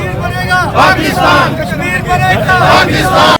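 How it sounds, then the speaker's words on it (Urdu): A street rally crowd in Pakistan chants slogans in support of Kashmir, many voices rising together in loud surging shouts that swell and recede across the moment. "کشمیر کے حق میں نعرے بلند کیے گئے"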